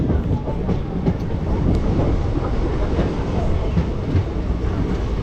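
Santragachi–Digha fast passenger train no. 58029 runs steadily on the rails with a close, continuous rumble and rhythmic wheel clatter throughout, and no voices are heard.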